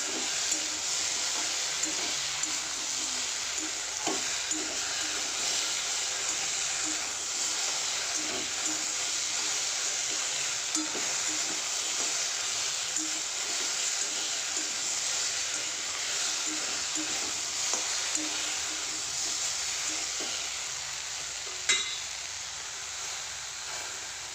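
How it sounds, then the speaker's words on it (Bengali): Okra curry with onion, turmeric, chilli and cumin cooks in a pan with a steady low hiss and faint sizzle, continuous and fairly quiet, with occasional soft clinks. "ঢেঁড়সের ঝালটাও চাপে দিয়েছি, পেঁয়াজ দিয়েছি।"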